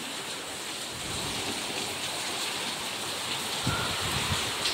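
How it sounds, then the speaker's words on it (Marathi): Heavy Mumbai rain pouring outside a closed window makes a dense, steady hiss with no let-up, plus a couple of faint low knocks near the end. "बघा किती सर्व पाऊस, काहीही दिसत नाही."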